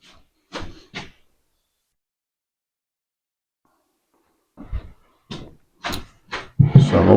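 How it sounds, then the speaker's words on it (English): A deep oak drawer on an end table slides and bumps in a few short wooden knocks and scrapes, close and distinct, separated by a long silent pause, ending in a louder rattling clatter. "So I'm opening up the drawer here."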